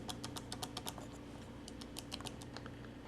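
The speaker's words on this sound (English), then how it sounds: "I'm just going to do that with a utility knife, very gently cutting through all the way around" A utility knife cuts gently around the insulation of an audio cable, producing faint, rapid clicking and scratching ticks in two clustered bursts over a quiet background.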